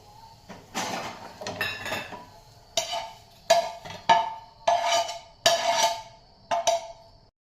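Roasted onion scraped out of a pan with a metal spoon while cooking a Marathi dried fish curry, a string of clinking, scraping knocks of metal on metal in uneven bursts, close and clear with no talk.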